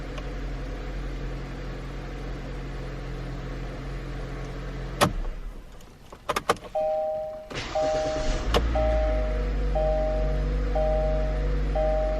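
A 2019 Kia Forte with the 2.0 engine starting after a crankshaft position sensor replacement: a steady hum, then sharp clicks and a brief crank, a beeping chime repeating several times, and a loud low idle settling in.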